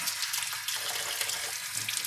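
A tangigue fish being washed under a running tap, a steady close splash and gush of water falling onto the fish in a sink.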